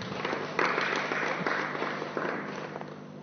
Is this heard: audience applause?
yes